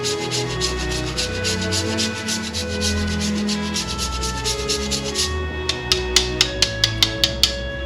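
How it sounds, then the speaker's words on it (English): Dark chocolate squares grated by hand over a mixed berry pavlova, a steady close rasping scrape that ends in a few sharp, separate strokes. "2 squares of dark chocolate I'm going to just grate on top"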